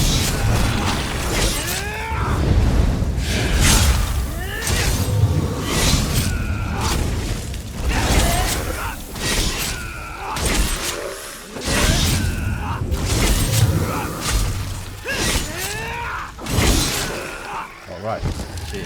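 An execute skill spammed in Elder Scrolls Online combat: repeated sharp impact and shattering hits with whooshes and mechanical clanks, recurring every second or two under a steady voice talking throughout.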